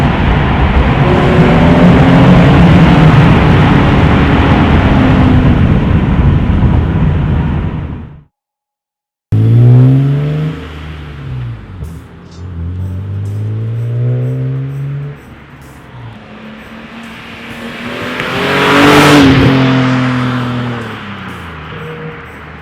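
A BMW E46 M3 with catless Euro headers and resonators revs loudly and close by, holding a long rasping rev, falling briefly silent, then cycling through several sharp blips and a final high-revving climb.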